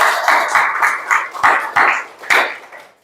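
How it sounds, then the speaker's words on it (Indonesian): A small classroom group claps for students in several uneven bursts of sharp hand claps, close and fairly loud, tapering off toward the end. "Tepuk tangan untuk kelompok yang ketiga"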